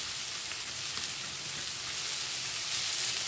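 Onions and chillies, together with lamb mince and salt, sauté in a non-stick pan, giving a dense, even sizzle that holds steady and close throughout, with no speech.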